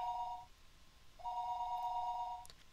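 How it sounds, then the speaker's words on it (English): A telephone rings in the Higurashi When They Cry video game, two steady electronic ring bursts separated by a short pause, clear and alone over a quiet background. "The phone rang, and I didn't know where the call was coming from."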